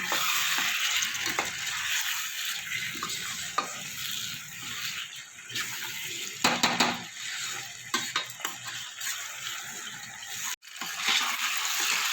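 Kadai paneer gravy masala stir-fried in a pan, a steady loud sizzle with repeated scraping stirs and a few sharp clinks, no voices.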